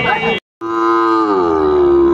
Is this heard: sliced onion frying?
no